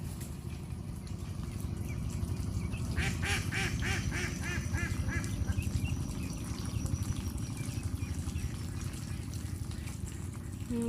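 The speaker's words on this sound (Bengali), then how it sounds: "অনেক হাঁসের বাচ্চা" A flock of many ducklings quacks and peeps in a busy burst near the middle, set over steady low outdoor noise by water, with a boat nearby.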